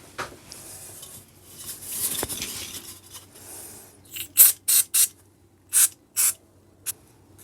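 Short aerosol spray bursts clean the bearing race of a crankcase on a 1939 Excelsior Universal motorcycle with a Villiers 9D engine, coming as several quick hissing blasts after a stretch of clinking workshop handling, close and fairly loud.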